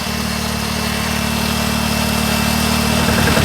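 A BRP Can-Am Outlander 800 Max XT S ATV engine idles steadily and loud up close, a continuous low throbbing rumble that builds slightly toward the end, with no talk.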